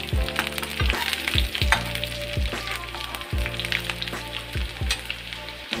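Nigella seeds and onion frying in hot oil for a cucumber curry, a steady close sizzle with regular spatula scrapes and stirring knocks repeating about every half second.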